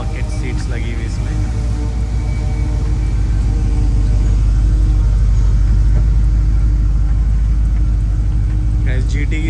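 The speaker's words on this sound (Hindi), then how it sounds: "गाइस GT की साउंड ही कुछ अलग है।" A Ford Mustang GT's deep, steady V8 engine rumble idles loudly and close, with a low throbbing burble and no clear revving.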